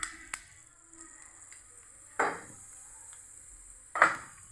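Chana dal, mustard seeds and cumin seeds sizzle in hot oil for a Kakarakaya curry, with a steady faint hiss broken by two louder bursts of crackling as the seeds hit the pan.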